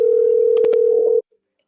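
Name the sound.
telephone ringing tone while calling a caller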